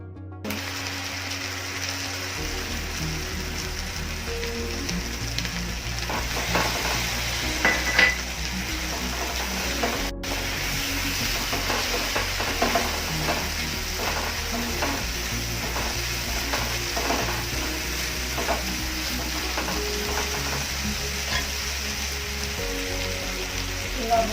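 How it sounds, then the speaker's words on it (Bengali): Ground spice paste fries in a pan for a Bombay duck and potato fish curry, giving a steady close sizzle with scraping and stirring clatter throughout, alongside a low mechanical drone. "বেটে রাখা মশলাটা দিয়ে"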